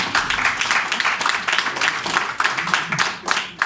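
A seminar audience claps together at a church Bible-institute gathering, a dense steady patter of many hands, fairly close and sustained throughout with no talk over it.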